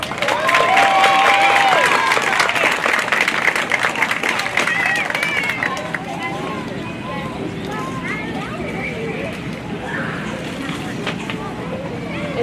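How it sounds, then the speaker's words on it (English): Audience at an elementary school awards ceremony claps loudly for second grade award recipients, then the applause thins into scattered clapping and crowd murmur, with a voice speaking over it. "another huge round of applause for our second grade award recipients"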